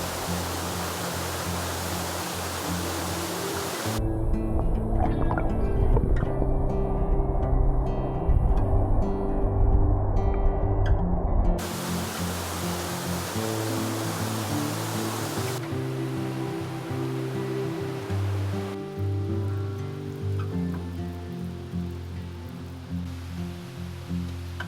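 Small mountain streams and waterfalls in Austria make a continuous broadband rush of flowing water. The level shifts abruptly between louder and softer segments, and no voices are heard.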